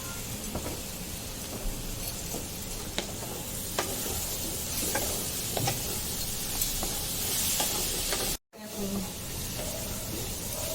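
Spices and chopped tomato sizzling in hot oil in a pan, mixed with coriander-cumin powder and chili powder, a steady close crackle with brief scraping stirs and a short dropout near the end.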